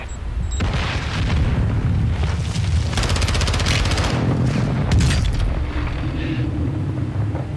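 Airstrike in Call of Duty Warzone 2.0: a run of heavy booming explosions rolling one after another, loud and dense with rumble, over continuous battlefield noise.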